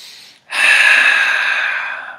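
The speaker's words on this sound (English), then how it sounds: "take a deep breath in" A deep, steady breath drawn in close to the microphone after a brief pause, a long airy inhale that swells quickly and then fades slowly.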